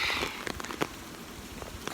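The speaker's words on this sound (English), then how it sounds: "So, see, it's raining a little bit." Light rain falls outdoors during Hurricane Dorian, with scattered close drops pattering on a surface and a brief burst of hiss at the start.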